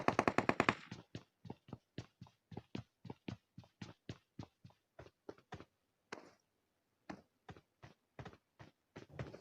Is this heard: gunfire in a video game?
yes